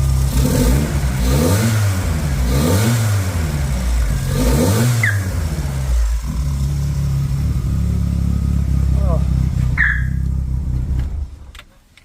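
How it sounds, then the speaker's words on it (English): A two-door car engine with a no-start fault revs up repeatedly in loud rising and falling surges, close and sustained, then idles down and cuts off near the end. "Rev it up."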